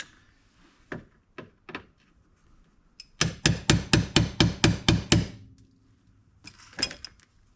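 A hammer drives a rusted screwdriver into a car body panel, striking a handful of single blows and then a rapid run of about eight sharp metallic hits, with a couple more knocks at the end.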